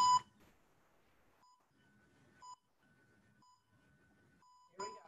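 A workout interval timer sounds a steady run of short electronic beeps about a second apart, with a longer tone at each end and faint talk underneath.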